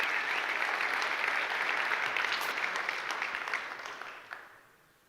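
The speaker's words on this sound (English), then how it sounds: "Should we give a round of applause as well for the staff" Conference audience at a React developer event applauding the staff, a dense steady round of clapping that fills the hall and tapers off toward the end.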